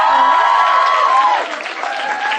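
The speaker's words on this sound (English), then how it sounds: "I think she deserves a whole loud round of applause from both sides" A crowd claps steadily at an award ceremony, with a tone or voice ringing over the applause before it eases off slightly.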